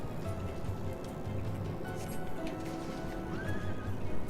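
A horse in a video game whinnies while its hooves clip-clop steadily, over a soft, steady hiss like rain.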